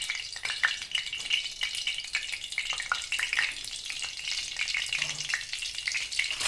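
Cumin seeds dropped into hot oil in a kadhai sizzle and crackle steadily, a dense close frying hiss that carries on for several seconds without any talk.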